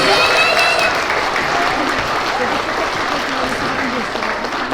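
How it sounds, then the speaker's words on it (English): Applause from a school assembly audience for third graders, a dense, steady round of clapping that slowly thins, with a faint voice carrying over it. "let's give them another round of applause"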